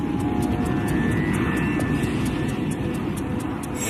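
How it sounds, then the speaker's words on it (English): A steady, loud airliner engine roar with a whining tone fills the scene as the right-hand engine is spun by airspeed in a windmill restart attempt, continuous and unbroken. "he tries to restart the right-hand engine with a windmill start, using the plane's speed to spin up the engine blades"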